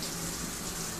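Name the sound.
water spraying from handheld shower head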